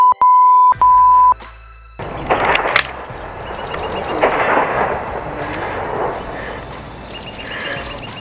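An AEA Zeus .72 caliber air rifle fires a 680 grain paradox-style slug at a 50-yard target. A few short electronic beeps come first, then one sharp, loud report with a long rumbling tail.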